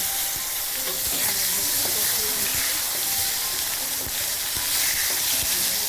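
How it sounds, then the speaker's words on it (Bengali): Chopped small tomatoes sauté in a pan for a mustard pabda fish curry, a steady close sizzle running throughout with scattered soft scrapes and taps of a stirring spoon. "এটা একটু কষিয়ে নিচ্ছি।"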